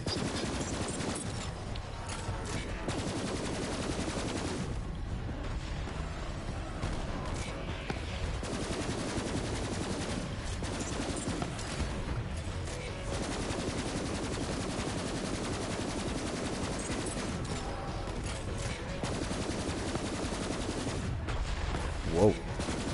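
Dense automatic and rapid gunfire rattles through a firefight in the video game Borderlands 3, bursts near and loud running almost without pause, with brief gaps and a voice reacting now and then.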